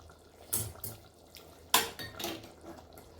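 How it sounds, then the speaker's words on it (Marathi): Hot water from a pan is poured into a pressure cooker holding mutton in a home kitchen, with metallic clinks of the vessels and short splashing bursts, close and fairly faint. "एक 2 वाट्या आपण पाणी ह्याच्यामध्ये घातलेलं आहे।"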